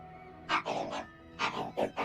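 A human voice imitates a dog barking in two quick clusters of yelping barks, close and fairly loud, with brief quiet between them.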